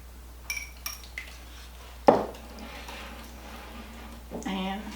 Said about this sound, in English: So I'm going to give it a quick stir right there.